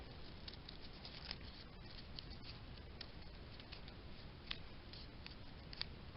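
Scissors cutting paper for a kirigami snowflake, a faint, steady run of soft snipping and rustling up close, with occasional sharper clicks of the blades.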